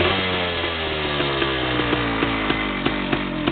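A Yamaha DT360A two-stroke engine with its choke off revs in a steady, buzzy run. Its rough idle is broken by rhythmic, repeated sharp pulses throughout, and it is loud and close with no talking.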